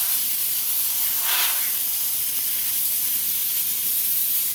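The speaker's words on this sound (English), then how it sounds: "I'm going to take some compressed air and I'm just going to spray it off." A loud, continuous hiss of compressed air sprays chips off a CNC milling fixture steadily throughout, with a brief stronger burst partway through.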